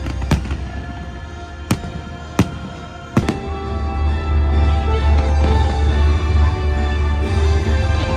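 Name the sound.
fireworks at Epcot, Walt Disney World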